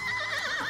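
A horse neighs in the video game The Life and Suffering of Sir Brante, a single loud close whinny with a wavering rise and fall.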